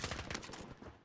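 Enemy gunfire in Call of Duty: Modern Warfare, a quick, evenly pulsing automatic burst lasting about a second, fairly faint and distant.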